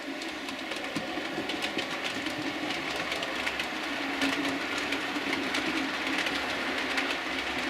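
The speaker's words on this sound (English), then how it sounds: "that's just so as you can hear the clickety click" Model railway train running round a layout on a hot day, its wheels beating a steady clickety-clack over the rail joints, close and continuous with no voices.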